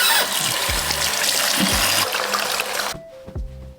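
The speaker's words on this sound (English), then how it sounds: "Let's rinse." Water runs at a bathroom sink as a face is rinsed during a skincare routine, a close, steady splashing rush for about three seconds that stops abruptly, followed by a few soft wet drips and handling sounds.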